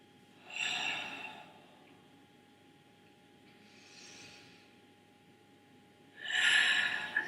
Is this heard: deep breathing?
yes